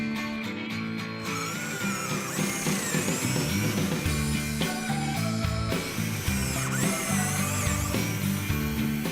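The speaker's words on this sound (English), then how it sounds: "Grab your drill, make sure it's going in the right direction" A power drill whirs into wood drilling pocket holes in steady stretches, close and continuous, mixed with background music.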